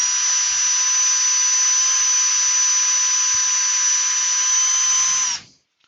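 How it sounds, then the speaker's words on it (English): A power drill boring a hole, with a steady high whine held at constant pitch for about five seconds that then cuts off abruptly, loud and close. "I'll just drill a hole in it"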